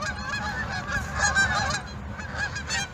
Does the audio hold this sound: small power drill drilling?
no